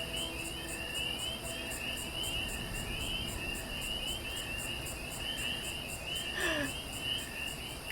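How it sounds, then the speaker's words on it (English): Frogs chirp near water in the video game Fallout 76, a steady repeating pulse of high chirps with a continuous insect-like trill beneath, moderately loud and without talk. "The chirpy frogs are very chirpy."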